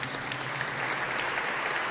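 Church congregation applauding during a solemn feast-day Mass for Saints Peter and Paul, a soft, even patter of many hands clapping at a distance, steady and unbroken for the whole brief moment.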